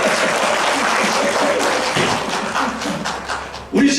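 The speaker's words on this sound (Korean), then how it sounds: "박수하려면 똑바로 박수." Congregation applauding during a church service, a loud, sustained wash of clapping with some thumps, ending in a sudden louder burst near the close.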